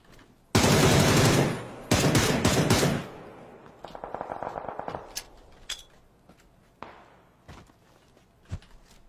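Gunfire in the battle royale game PUBG: a loud sustained burst of automatic fire, a second volley, then a rattling string of quicker shots, followed by scattered quieter pops and thuds.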